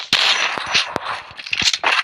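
Shotgun blasts in the mobile shooter game Free Fire, several sharp, loud bursts fired in quick irregular succession over a busy layer of in-game noise.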